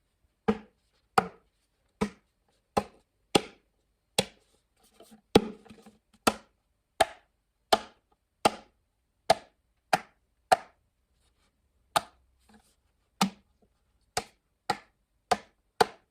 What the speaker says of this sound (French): J'ai donc pris le ukulélé pour faire des sons qui ressembleraient à une caisse claire.